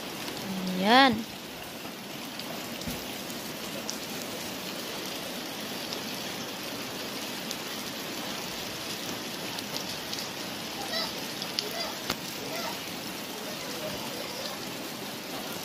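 Rain pours steadily outside a front door on an overcast afternoon, an unbroken close patter, broken only by a short squeaky sound at the start and no talk.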